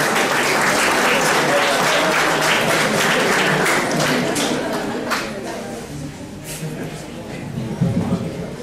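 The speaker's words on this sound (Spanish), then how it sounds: "un aplauso para ella, por favor" A conference audience applauds, loud and dense at first, then thinning into scattered claps after about five seconds, with some voices mixed in toward the end.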